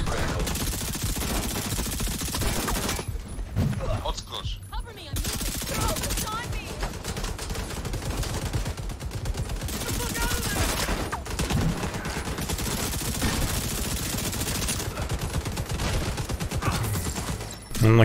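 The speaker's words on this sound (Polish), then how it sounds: "Na kilometry strzela." Sustained gunfire from The Division 2 video game, dense bursts and rattling shots running almost continuously at close range, with a brief lull early on.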